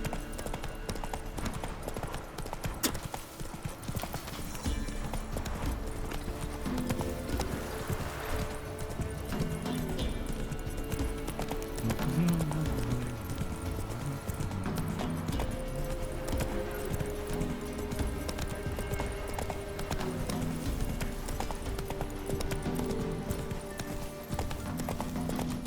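Horses galloping in the video game The Witcher 3: Wild Hunt, a rhythmic clatter of hooves, continuous and fairly close, with an occasional whinny amid the pounding.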